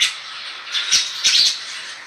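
A house sparrow chirps in a home courtyard, a few sharp, close, high-pitched calls in quick succession over faint background hiss.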